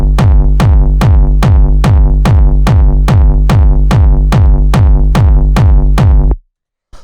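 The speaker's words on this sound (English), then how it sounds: "first thing we have up here is the distorted kick" A distorted kick drum in 90s-style hard techno pounds out about fourteen loud, heavy, evenly spaced hits, each with a booming, saturated low tail, then stops abruptly.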